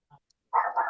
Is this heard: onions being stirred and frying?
no